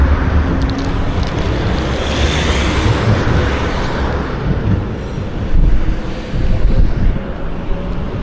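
Strong wind buffets a microphone outdoors on a cold day, a loud continuous rumbling roar that surges and eases, swelling louder in its second half.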